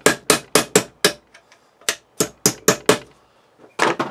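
Sharp metallic hammer blows drive a flathead screwdriver into brass to cut a slot, about a dozen close, loud strikes in uneven bursts with brief pauses between groups.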